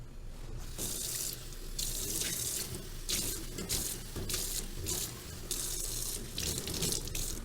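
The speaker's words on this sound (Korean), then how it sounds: "생강을 헹궈 줍니다" Tap water runs into a kitchen sink while fresh ginger is rinsed, giving a close, steady splash broken by repeated bursts as the ginger is swished and the flow shifts.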